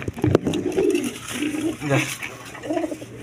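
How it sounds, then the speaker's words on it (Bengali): Orange chila pigeons, a pair sitting on eggs, coo in soft low repeated phrases close by, with some background voices and rustling. "এখানে এক পেয়ার অরেঞ্জ চিলা কবুতর আছে, ডিম নেওয়া বসে রয়েছে"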